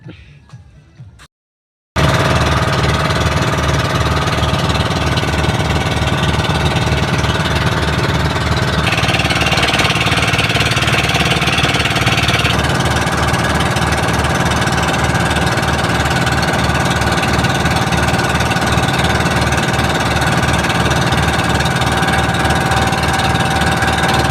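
A loud, steady boat engine drones close by with a rapid pulsing chug, continuous and unbroken after a brief moment of quiet at the start.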